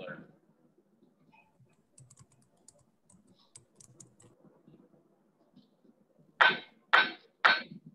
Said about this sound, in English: I'm going to take one more heat on this part and just use a flat side of the hammer to flatten it out